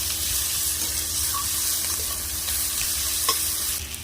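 Chopped onion and slit green chilli with whole cumin and five-spice frying in a little oil, a steady dense sizzle with a few light clinks of stirring, close and continuous without talk.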